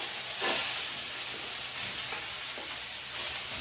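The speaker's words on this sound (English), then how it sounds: "So now we're going to add in our shrimp." Raw shrimp sizzle and fry in a hot pan for a pasta with peanut sauce, giving a steady, loud broadband hiss with small stirring bursts and no talking.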